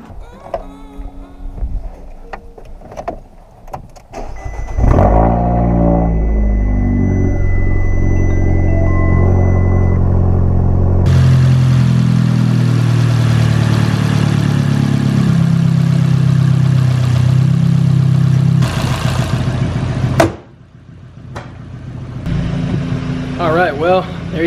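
A Fiat 500 Abarth is started after a spark plug change, a short cranking burst catching into a loud steady idle that holds for about fifteen seconds before cutting off, with a person talking before and after.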